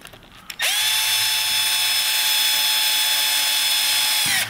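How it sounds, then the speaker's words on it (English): A power drill drives screws back into a plastic clip-on e-bike battery case, giving one steady, loud, close whine for about four seconds that starts and stops abruptly. "then it's simply a matter of replacing those screws."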